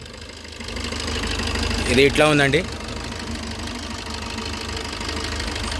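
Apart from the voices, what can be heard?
diesel car engine idling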